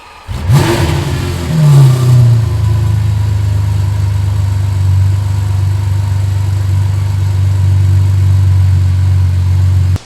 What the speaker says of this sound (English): that was a cold start with the valves closed, which actually sounded really nice